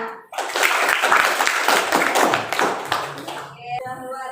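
A classroom group applauds after a class presentation, a dense burst of clapping for about three seconds that fades out, followed by a brief voice at the end.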